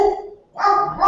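A dog barks in the background, loud and close together in two bursts with a short gap between them.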